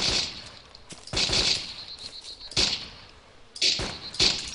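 Gunfire in the video game DayZ, a few loud sharp shots in bursts with hissing tails, spaced irregularly over a noisy outdoor background, heard close and alone without talk.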